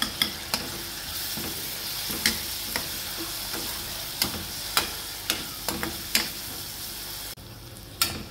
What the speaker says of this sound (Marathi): आता आपण यात टोमॅटो घालू, टोमॅटोही आपण 1 मिनिट परतून घेऊ